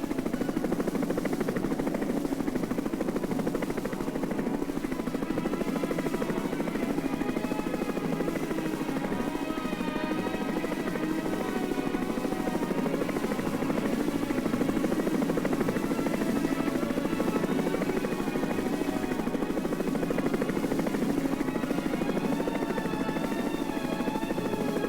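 A hovering sky crane helicopter roars continuously and loudly, its rotor and engine noise dense and unbroken as it lowers arch sections into place.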